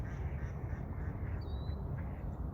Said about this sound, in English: And you can hear them quacking away, doing what ducks do.